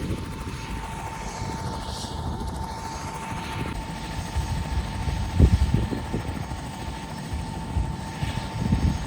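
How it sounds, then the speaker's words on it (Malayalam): A helicopter's rotor and engine drone steadily for several seconds, a constant throbbing roar with no voices, in the Everest region of Nepal near Dingboche. "ഒരു ഹെലികോപ്റ്റർ വന്ന് കിടപ്പുണ്ട് ഇവിടെ."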